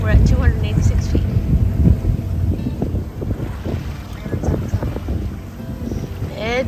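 Wind rushes and buffets the microphone while water sloshes against a moving sailboat on the Grand Bahama Bank, a steady blustery roar with splashing throughout.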